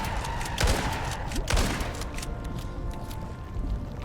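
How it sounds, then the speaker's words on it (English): Gunfire aimed at the lava hunter boss in the survival game Icarus, a loud close run of shots with a few sharper cracks standing out over continuous rumbling. "You can just shoot him and kill him."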